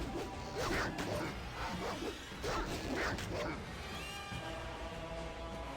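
War dogs barking in the video game Baldur's Gate Enhanced Edition: repeated yipping barks mixed with combat swooshes and crashes, with someone talking over them.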